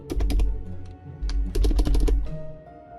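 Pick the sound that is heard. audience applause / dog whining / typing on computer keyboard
typing on computer keyboard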